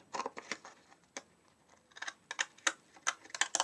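Scissors make a series of short, crisp snipping clicks through card, quick irregular cuts with brief pauses, close and fairly quiet.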